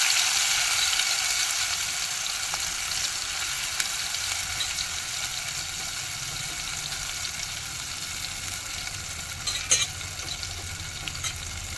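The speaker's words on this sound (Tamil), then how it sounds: "நல்லா வதக்கணும்." Mustard seeds, dried red chillies and hand-mashed rasam ingredients sautéing in hot oil give a steady, close frying sizzle, with occasional scrapes and clicks of stirring throughout and no talk.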